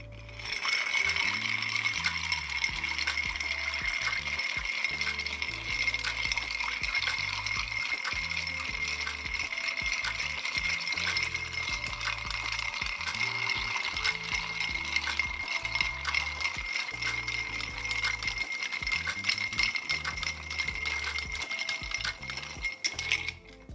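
Ice cubes one to one and a quarter inches across, stirred in a mixing glass for a cocktail, give a steady rapid clinking and rattling that carries on without a break for over twenty seconds, close and loud, with no talk.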